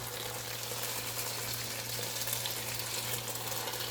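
Beef browning in a Power XL StirMax multi-cooker pot, coated with flour for a savory beef stew, gives a steady, close sizzle and frying hiss that runs on unbroken with a low electrical hum beneath.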